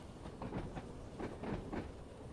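A Class 31 diesel train running along the track, its wheels giving a steady rhythmic clickety-clack over a continuous low rumble.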